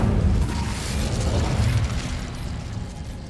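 Hogwarts Legacy's Incendio fire spell goes off as a deep, rumbling burst of flame with a few quick thumps, loud and close, then tapers into a softer roar, with no one talking.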